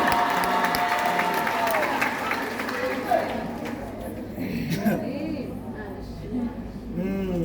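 A crowd claps in sustained applause that gradually thins out, with voices and some cheering mixed in.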